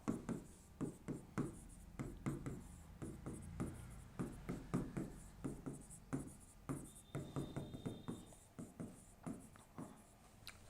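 Chalk or marker scratches and taps rhythmically on a board during a maths lesson, with quick strokes in steady bursts heard close and fairly faint.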